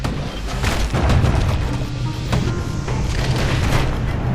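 Guns firing from a security skiff in the Bastion video game, heavy booming shots layered over a dense rumbling game score, loud and close with no talk.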